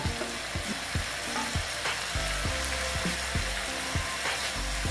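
Fried ridge gourd pieces going back into a hot pan, with a steady sizzle and repeated low knocks from stirring running throughout, close and fairly loud, with no voices.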